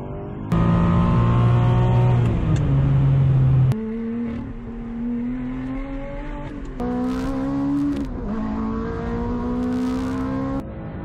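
A Ferrari 550 Maranello's V12 roars loudly from close by while driving, its pitch climbing through the revs, then breaking at gear shifts into a quieter, lower drone that builds again.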